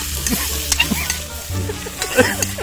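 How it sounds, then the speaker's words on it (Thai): Dry chilies sizzle and crackle in a hot wok while a utensil scrapes and stirs in irregular strokes, close and fairly loud. "เราต้องคนเรื่อยๆนะไม่งั้นเดี๋ยวพริก มันจะไหม้ครับ"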